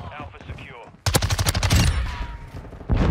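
Rapid automatic bursts from the MX9 submachine gun in Modern Warfare 2, loud and close with a steady rattling rhythm, beginning after a stretch of quieter game sound and continuing for about two seconds.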